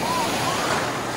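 Sea surf at New Digha beach, a steady, broad wash of breaking waves filling the moment, continuous and fairly loud with no clear pauses.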